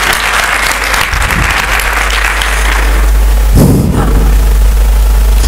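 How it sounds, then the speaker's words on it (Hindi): Applause from a seminar audience on women's empowerment in Sardarshahar, loud and sustained for the whole stretch, with a heavier burst of clapping and low thumps toward the end. "एक बार खुद के लिए जोरदार तालियां बजा दीजिए।"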